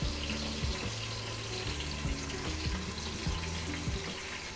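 Mutton pyaza with garlic and ginger frying in a pan, a steady close sizzle and crackle with faint stirring, no talking.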